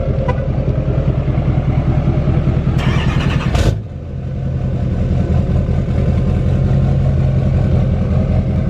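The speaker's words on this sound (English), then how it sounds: "let's get my truck remote started" A 2020 pickup truck with an L5P diesel engine is remote started, cranking and catching around midway, then settling into a steady, loud idle rumble close by.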